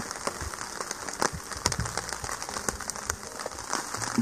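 Rain falls on a small tarp rigged over a hammock camp beside a river, a soft, steady patter with scattered sharper drops striking the fabric, faint and continuous with no voices.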